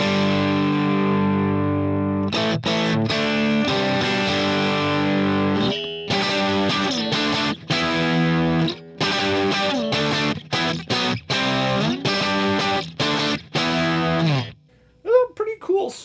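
Stratocaster run through the boost side of a MojoTone Lerxst By-Tor boost pedal with the level fully up, giving a bright, mildly driven rock tone: sustained ringing chords, then choppy rhythmic stabs with gaps, ending in a few bent notes.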